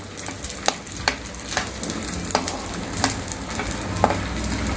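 Edible gum frying in a pan until it puffs up for sugar-free dry fruit laddu, a loud continuous crackling sizzle with frequent sharp pops and stirring scrapes throughout.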